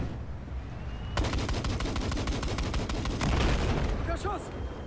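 Rapid bursts of gunfire in the Battlefield 4 single-player campaign, a fast run of sharp shots followed by a second volley, over a constant background rumble.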